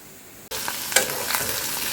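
Egg sizzling in a hot pan in a home kitchen, bursting into a steady, close hiss after a brief quiet moment, with a few spatters and crackles and no talk.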